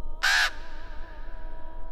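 A raven croaks once as a sound effect during a poem reading, a single loud, harsh call of about a quarter second that fades into quiet room tone.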